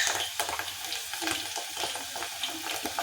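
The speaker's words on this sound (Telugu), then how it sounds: "మనకి ఇలా మంచిగా బాయిల్ అవుతున్నట్టుగా అనిపిస్తుంది చూడండి" Homemade hair oil bubbling in a pan after hibiscus flowers are dropped in, giving a steady close sizzle and fry crackle with scattered pops and no talking.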